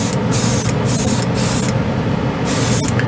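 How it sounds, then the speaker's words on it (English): Bursts of airbrush spray hiss at 20 PSI with Mr. Color White GX1 paint, short on-off pulses, steady and close, with brief gaps between each blast. "I am spraying at 20 PSI"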